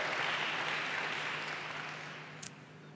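Congregation at a church service applauding, a broad steady wash of clapping that gradually thins and fades over a few seconds, with a low constant hum underneath.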